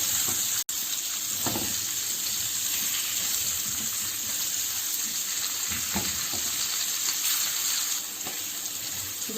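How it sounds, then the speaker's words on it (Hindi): Green chillies fry in hot oil for a spicy pickle-style dish, giving a steady close sizzle and hiss with a few soft stirring knocks throughout. "बस इन मिर्चों को हमें 3 से 4 मिनट के लिए फ्राई करना है तेल के अंदर।"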